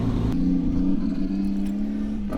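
A Nissan Skyline's engine drones loudly and continuously at a steady held throttle while drifting in circles, with a slight shift in pitch partway through.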